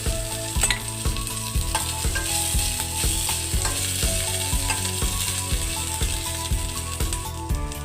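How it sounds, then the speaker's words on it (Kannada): Ginger garlic paste frying in hot coconut oil in a pan for crab sukka, a steady close sizzle with irregular metallic clicks and scraping of a stirring spoon throughout. "ಎಣ್ಣೆ ಬಿಸಿಯಾದ ನಂತರ ಶುಂಠಿ ಬೆಳ್ಳುಳ್ಳಿ ಪೇಸ್ಟನ್ನು ಹಾಕ್ಕೊಂಡು ಫ್ರೈ ಮಾಡ್ಕೊಳ್ತಿದ್ದೇನೆ"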